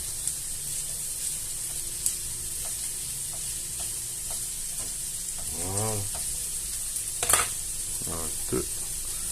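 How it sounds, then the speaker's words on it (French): Vegetables already cooked in a Cookeo go into a pan of browned onions, giving a steady soft sizzle of frying with a few brief clatters and a stirring scrape near the middle and end. "On va mettre les légumes. Ils sont déjà cuits au cookéo."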